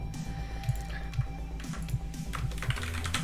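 A computer keyboard clacks up close with a quick, uneven run of key presses and a few heavier thocks standing out, and no one talks.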